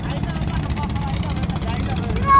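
A motorboat engine on the Kaliganga river gives a steady, rumbling drone with a throbbing low pulse. It sounds fairly close and carries on evenly, with a voice audible along with it.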